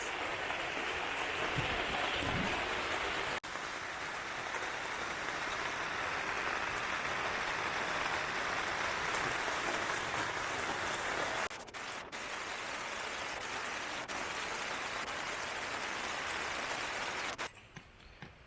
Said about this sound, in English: So second day is raining again.